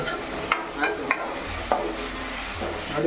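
Avalakki (flattened rice) fries in a pan, a soft continuous sizzle broken by a few sharp spatula taps and scrapes, close and fairly quiet.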